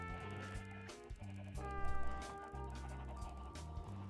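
Chickens in the video game Minecraft give short, repeated clucks in a steady, bouncy rhythm, fairly close and clear, with a low background hum underneath.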